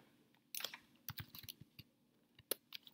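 Computer keyboard typing in a few quick bursts of clicks, close and fairly quiet, with short pauses between runs of keystrokes and no one talking.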